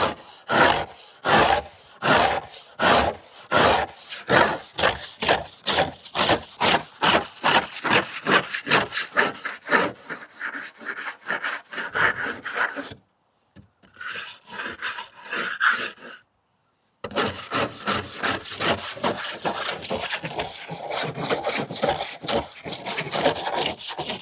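Rhythmic scraping strokes strip an old vinyl car top, loud and close, in a steady back-and-forth rasp that pauses briefly before resuming at the same even pace.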